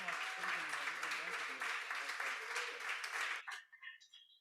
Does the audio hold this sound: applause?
yes